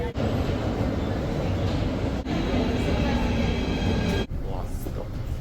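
An Athens metro train rumbles with a broad, continuous roar, broken by a few sharp clunks as it runs along the track.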